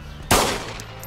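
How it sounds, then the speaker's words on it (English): A single sharp, loud gunshot rings out in the survival game DayZ, a sudden broadband crack with a lingering tail, preceded by quiet ambience and followed by a faint echo. "I'm shooting at them"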